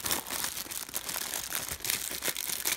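The plastic wrap on a sealed Pokémon card collection box crinkles and tears as it is opened, giving continuous close, quiet rustling.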